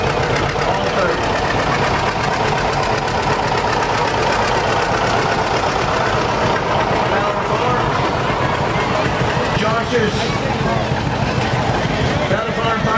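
A 1950 John Deere tractor engine runs steadily through a Memorial Day parade, its low continuous rumble and knock blended with crowd and street noise outdoors while a voice talks over it throughout.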